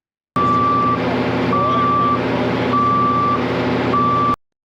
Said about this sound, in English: The low water alarm on this truck does get very annoying.